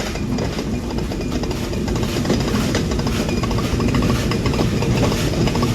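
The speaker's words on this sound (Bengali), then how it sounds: "আমরা ডিপার্চার নিচ্ছি কোট চাঁদপুর রেলওয়ে স্টেশন থেকে" Rupsha Express train pulling out of Kotchandpur railway station in Bangladesh, heard from on board: a steady, loud rumble of engine and rolling carriages with faint rhythmic clatter throughout, no voices.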